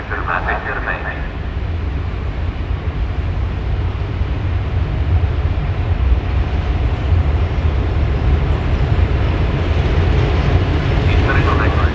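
A train rolls through Milano Lambrate station with a loud, continuous rumble and roar lasting throughout, while station announcements sound faintly at the start and end.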